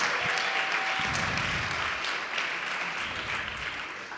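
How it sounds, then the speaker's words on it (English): An audience at a CreativeMornings talk in New York breaks into applause, a full, continuous round of clapping that stays fairly steady and eases slightly toward the end. "let's give her a round of applause."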